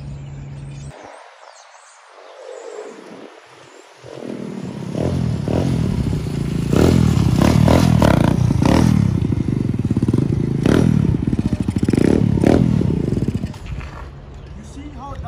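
A 125cc dirt bike engine runs steadily after a hard start, its low rumbling drone close and fairly loud, with people talking over it for most of the stretch.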